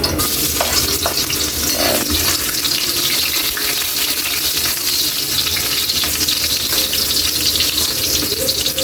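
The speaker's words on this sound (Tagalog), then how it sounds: "Mainit na yung mantika natin. Pwede na tayo maglagay ng bawang." Garlic dropped into hot cooking oil in a pan for pork humba, giving a steady, loud, dense sizzle and crackle throughout, with occasional stirring clinks and no talking.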